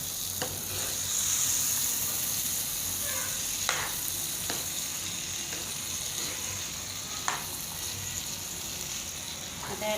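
Boiled chickpeas tossed into a spiced masala base hiss with a constant close sizzle, while a spoon scrapes and knocks against the pan at irregular intervals.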